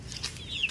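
Native country chickens clucking in a farmyard, a few soft, scattered clucks and calls over low background rumble.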